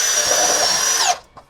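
APR AP34+ cordless impact drill running in drilling mode at speed 2: a loud, steady high-pitched motor whine held for about a second, then winding down abruptly as the trigger is released.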